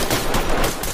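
Gunfire in the tactical shooter game Ready or Not, a dense, loud burst of shots filling the whole second with no talk over it.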